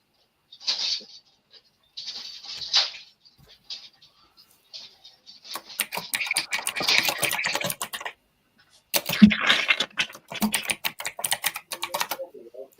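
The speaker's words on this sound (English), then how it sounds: "my keyboard's too noisy" Close, crisp computer keyboard typing comes in short bursts separated by brief pauses, then turns into longer, denser runs of keystrokes.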